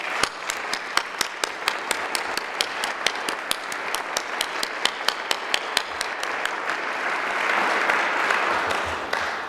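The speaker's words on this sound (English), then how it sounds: "So please stand up, board members, and get a round of applause." A crowd applauds steadily for several seconds at a medal ceremony, dense clapping with a few sharper claps standing out, swelling slightly toward the end.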